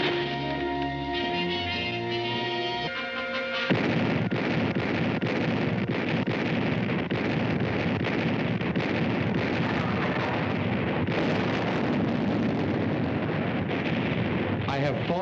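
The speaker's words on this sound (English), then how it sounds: "925 big guns direct fire on this one objective." Massed WWII artillery, 925 big guns in the Italian campaign, fire on Monte Camino before Monte Cassino. A dense, continuous roar of overlapping booms and rumbling follows a brief musical opening and stays loud throughout.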